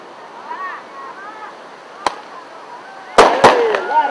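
Sharp bangs of a firework rocket fired as the start signal for a fishermen's canoe race on a beach, two or three loud cracks near the end, with distant whistles and crowd noise beforehand.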